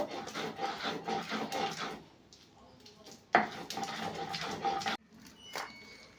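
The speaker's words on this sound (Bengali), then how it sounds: "এগুলো বেটে নেব একটু আদা রসুন বেটে নেব" Ginger and garlic being ground into paste on a stone, repeated rough rasping strokes in bursts with brief pauses and a sharp knock, close and fairly quiet.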